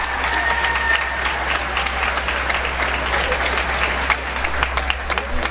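Sustained applause from the audience at a world jigsaw puzzle championship pairs final, steady and fairly close throughout, with a faint commentator's voice underneath.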